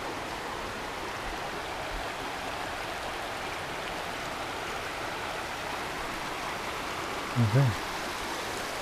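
River rapids beside a forest trail rush in a constant, dense wash of water that holds even all the way through, with a brief spoken word near the end.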